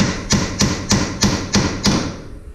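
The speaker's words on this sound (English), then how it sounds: "I'm just going to take a little ball peen hammer here and just tap on that ear" A small ball peen hammer taps six times on the tie rod ear of an ATV being fitted with heavy duty tie rods. The metallic strikes come at an even rhythm, close and sharp, with no talk.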